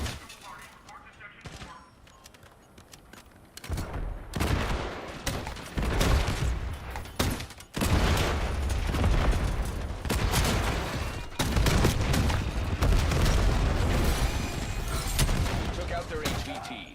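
Rapid video-game gunfire rattles in dense, overlapping bursts with thumps and booms, starting faint and then swelling into loud, sustained firefights with only brief gaps.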